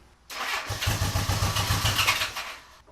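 A 1975 Honda Goldwing 1000cc motorcycle engine cranks and catches, settling into a loud, close, rough running rumble with slight revving for a couple of seconds before cutting off.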